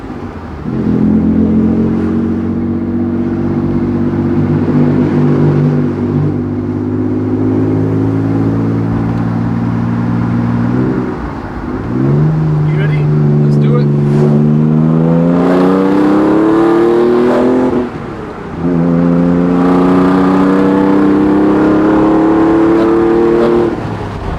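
A loud Nissan 300ZX exhaust without back boxes roars at idle and revs repeatedly, deep harmonic drone rising in pitch with each blip, close by and continuous.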